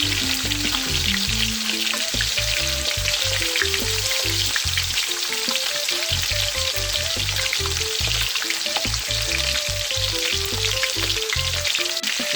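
Turkey wings for Jamaican stewed turkey wings fry in a pot with a steady, dense sizzle of hot oil throughout, while loud music with a strong bass line plays over it.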